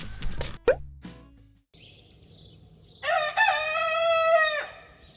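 A rooster crows loudly at close range with one long, strained call at a pilgrims' lodging on the Camino de Santiago, preceded by scattered short clucks and noises.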